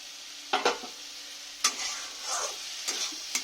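Snake gourd frying in a pan being stirred, a soft continuous sizzle with a few sharp scrapes and clicks of the spoon against the pan, close and otherwise quiet.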